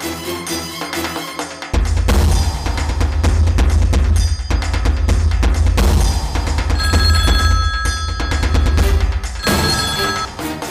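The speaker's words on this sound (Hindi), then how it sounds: "शर्मा जी, एक मिनट सर, आपके लिए फोन" A telephone rings at a police station, its bell tones sounding under loud, dramatic background music for most of the ten seconds.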